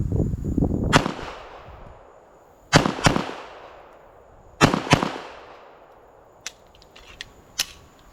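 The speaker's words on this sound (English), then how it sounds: "I'm just gonna kind of shoot these and get a feel for it." A Girsan Match 2311 pistol fires at a range target, three sharp loud shots spaced about two seconds apart with ringing decay, followed by lighter clicks and clatter.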